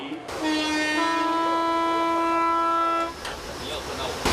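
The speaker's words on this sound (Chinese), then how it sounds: "欢迎搭乘阿里山森林小火车" An Alishan Forest Railway train in Taiwan sounds its horn in one long, steady, loud tone for about three seconds, then cuts off, leaving a low rumbling background.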